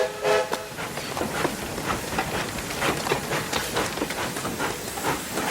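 A steam train sits at a station, with steady hissing steam and rhythmic chuffing bursts over a low mechanical rumble, fairly close.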